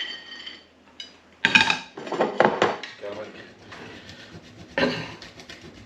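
Toasted food is tipped from a pan into a bowl, giving a few sharp clattering and clinking bursts with quieter scraping between them at close range, while a person talks.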